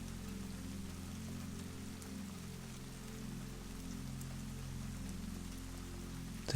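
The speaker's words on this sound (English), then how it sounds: "listening to the rain" Steady rain falls on a farm, a constant close wash of patter with a low hum underneath, unchanging throughout.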